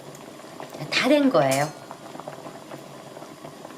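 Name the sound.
tteokguk rice cake soup boiling in pot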